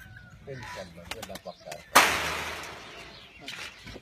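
A sudden rush of pigeon wing flapping bursts out on a rooftop and fades over a second or two, with someone talking before it.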